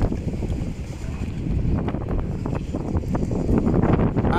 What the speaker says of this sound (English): The wind is too strong, and it's snowing.